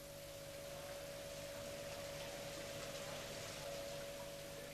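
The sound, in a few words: old steam engines of dry dock pumping unit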